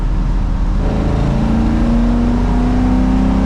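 A 1971 Ford F-100 restomod truck with an LS3 V8 cruises in third gear at about 55 mph, giving a loud, continuous engine drone and road roar whose pitch climbs slowly as it pulls, with no voices.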